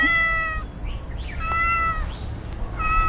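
A cat meows several times in short, high calls over a steady background hum.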